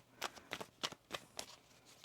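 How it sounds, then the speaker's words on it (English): Tarot cards shuffled by hand in a series of crisp riffling bursts, about six quick rustling snaps spaced roughly every quarter second, close and fairly quiet with no talk. "Let's get one more shuffle."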